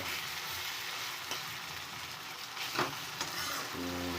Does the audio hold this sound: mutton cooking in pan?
yes